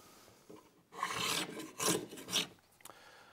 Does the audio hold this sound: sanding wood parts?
yes